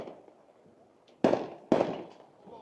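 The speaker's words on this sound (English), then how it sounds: "some fireworks go off. Actually, they're going off right behind us here" Two sharp fireworks bursts go off close behind a baseball stadium during a Douglas versus San Xavier district 8 seniors all-star game, each a loud crack followed by a crackling tail, over faint crowd ambience.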